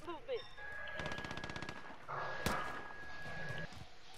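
Rapid machine-gun bursts from enemies in a video game, a steady stream of shots followed by a sharp single blast, with background game noise layered over it.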